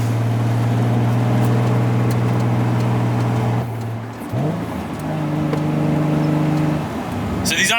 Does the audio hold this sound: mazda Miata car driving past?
yes